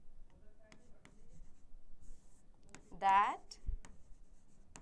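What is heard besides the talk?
teacher writing words down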